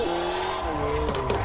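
A Nissan 240SX with a KA24DE engine in Assetto Corsa drones steadily against its rev limiter, with brief tire squeal near the end of the short burst.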